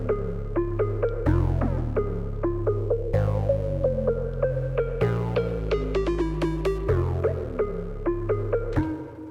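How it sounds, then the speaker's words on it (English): Conga drum pattern treated with EQ and pitch-bend effects, a steady rhythmic sequence of hits with sliding pitch, layered over sustained bass notes, clean studio sound with no voices. "EQ and some pitch bends on the conga"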